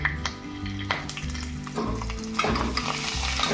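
Fennel seeds and coriander seeds, red chili powder and turmeric sizzle and crackle in hot oil for a potato sandwich filling, with a few stirring clinks over a steady close frying hiss.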